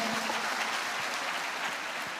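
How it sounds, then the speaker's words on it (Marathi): An audience at the Krishna Carnival event claps steadily for the chief guest, a wing commander and chakra medal winner. The dense applause holds at an even level and cuts off abruptly at the end. "त्यांच्यासाठी एकदा जोरात सगळ्यांनी टाळ्या वाजवायच्या"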